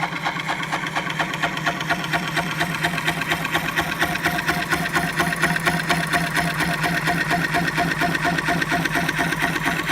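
A wood lathe spins a piece of ash for a wall platter while a small gouge takes fine, light cuts. The steady mechanical whir and buzz runs continuously and evenly throughout, with no talking.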